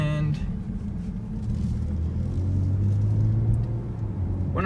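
A 2019 Kia Stinger with all-wheel drive cruises around a bend, its engine and road rumble holding a steady low drone that swells slightly midway, with no talk over it.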